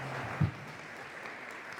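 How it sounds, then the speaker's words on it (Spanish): An audience welcoming a doctor to the stage at an event, a faint, steady spatter of many people clapping in a hall, with one brief low thump near the start. "Recibamos con un fuerte aplauso al doctor Valenzuela."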